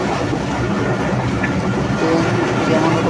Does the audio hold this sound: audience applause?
no